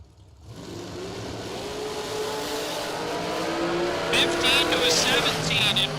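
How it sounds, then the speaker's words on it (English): Dragsters race at a drag strip, engines building into a sustained rising roar heard from a distance, with an announcer talking over the run. "The dragster over there on the right side."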